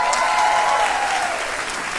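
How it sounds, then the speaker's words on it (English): Children upstairs in the audience at a school concert band performance break into loud, sustained applause, a dense wash of clapping filling the hall for the whole moment. "you can tell by the applause from the kids upstairs, they love her"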